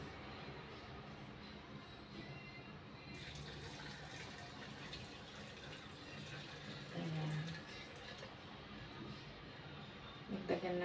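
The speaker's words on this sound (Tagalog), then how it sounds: "And then, lagyan natin ng tubig." Water pouring into a blender jar over chopped apple and a whole pomegranate's seeds for a smoothie, a steady soft gushing stream that runs for several seconds, quiet and close.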